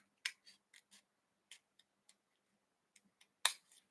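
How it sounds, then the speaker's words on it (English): Scissors trimming cardstock in a quiet room, a series of short, crisp snips at an uneven pace, the loudest snip coming near the end. "Line the edge of the scissors up with the cardstock and just trim."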